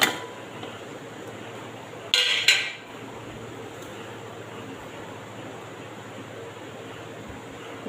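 Ivy gourd curry ingredients go into a cooking vessel with one brief metallic clatter, then a low, steady room hum.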